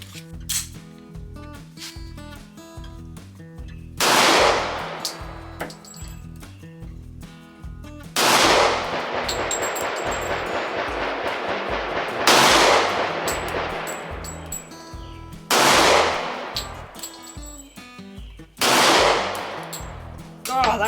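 Several loud Smith & Wesson 4006 TSW pistol shots ring out alone at a range, sharp bursts spaced a few seconds apart with a ringing decay and faint metallic clatter between.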